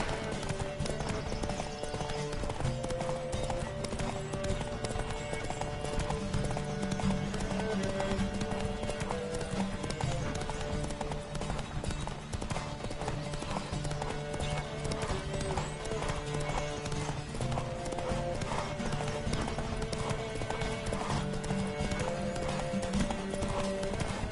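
Racing horses gallop in The Witcher 3, their hooves drumming in a fast, steady clip-clop under a continuous, loud bed of music and game sound for the whole stretch.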